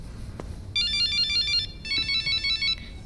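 A telephone rings with an electronic trilling tone in two long bursts separated by a short pause, clear and fairly close in a quiet indoor setting.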